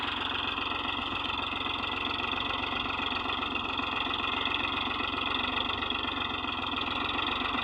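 A tractor engine idles in a steady, unbroken low rumble that holds evenly throughout.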